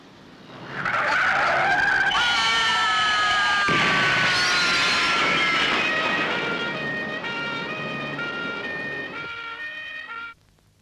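Dono's car skids hard in a 1985 Indonesian comedy scene: a loud, sustained tire screech with wavering pitch runs for about nine seconds over engine roar, then cuts off abruptly.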